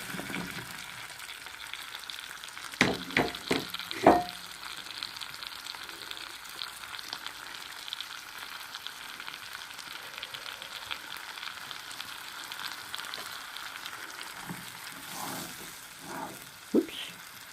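Onion and leeks frying in a pan give a steady, moderate sizzle, with a burst of close clattering stirs near the start and a few more scattered knocks later.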